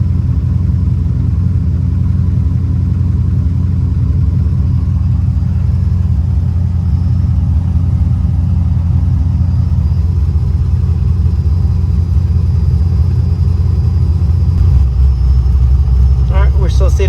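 Datsun 240Z engine idling, a steady low rumble that holds even and continuous throughout, with a faint shift near the end; a voice talks over it.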